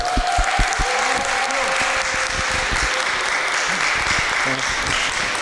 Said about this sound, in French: accueillons-le en acclamant donc notre Seigneur, en tant qu'acclamant fort